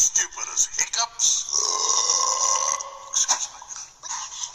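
A long, drawn-out belch with a rough, voiced tone, fairly loud and close, framed by short bursty noises at the start and end, with possible voices nearby.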